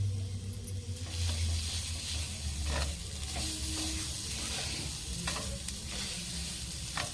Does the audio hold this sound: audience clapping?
no